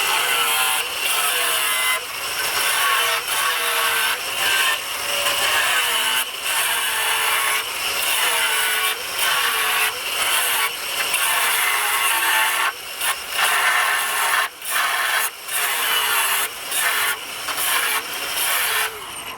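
A grinding wheel cuts through sheet steel for a wood stove build, producing a loud, continuous abrasive whine close by that pulses in steady strokes with brief dips as the cut is pushed along.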